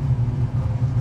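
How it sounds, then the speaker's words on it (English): A 1968 Ford GT40 replica race car engine gives a brief, steady low mechanical rumble up close, with no voices over it. "just give it a blip of the throttle. The way it revs, it's obviously got a light flywheel too."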